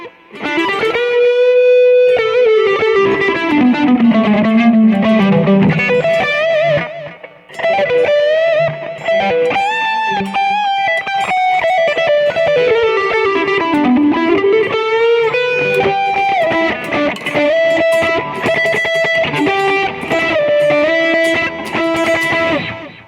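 Electric guitar played through a BOSS eBand JS-10 with a delay effect set to 300 ms and low feedback, giving a distorted blues lead with bends and slides, each phrase trailed by faint repeating echoes.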